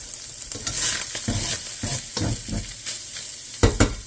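Cabbage and garlic sizzle and fry in a pan while being stirred, with repeated scraping strokes and a steady crackling hiss, close and moderately loud, no talking.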